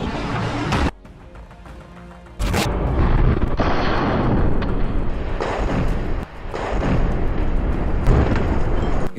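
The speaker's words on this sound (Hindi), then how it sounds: "सामने खड़े एक टैंक पर भी अल कासिम के लड़ाके आरपीजी फायर कर देते हैं" Explosions from an RPG attack on an IDF tank in Gaza fighting, loud booming blasts and sustained rumbling fire with a sharp burst near the start and another around two and a half seconds, no speech.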